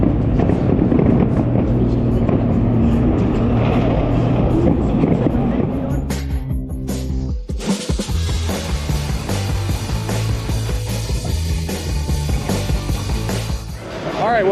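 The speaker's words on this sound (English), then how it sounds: "They've moved the fireworks up." Fireworks go off over the Spa race track near the Eau Rouge grandstand during a 24 hour race, a dense rumbling barrage of bursts and crackles that stays loud throughout, with a sharp crack partway through.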